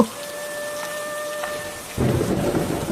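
A cartoon thunderstorm: thunder rumbles, then heavy rain surges in loudly and pours steadily on surfaces.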